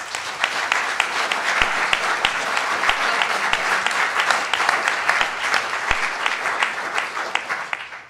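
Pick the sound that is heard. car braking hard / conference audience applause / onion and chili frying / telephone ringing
conference audience applause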